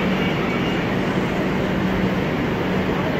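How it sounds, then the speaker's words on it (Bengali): A metro train pulls away from the platform, filling the space with a loud, steady rumbling roar that holds constant throughout without any voices. "মেট্রো এখনই ছেড়ে দিল"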